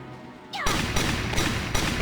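A soldier exploding in Valkyria Chronicles Remastered: a brief falling whistle after a quiet moment, then a sudden loud blast that carries on as sustained crackling bursts.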